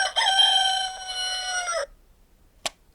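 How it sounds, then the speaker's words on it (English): A talking clock's electronic rooster-crow alarm sounds once, loud and close, then cuts off; a brief click follows in the silence. "so that's the alarm sound. I don't use that because that rooster is annoying."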